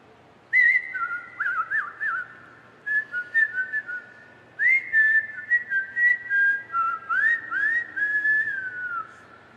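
Someone whistles a bright, bouncy tune in short repeated phrases with brief pauses between them, close and clear with nothing else around it.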